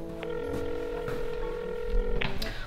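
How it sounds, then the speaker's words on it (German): Telephone dialing and ringing: steady tonal beeps of a phone line sound close and continuous, with a few short clicks and tones as the call goes through. "Gut, dann rufe ich ihn halt an."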